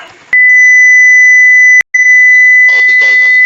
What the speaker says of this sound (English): I want it to beep at a frequency of 200 with a duration of 20 seconds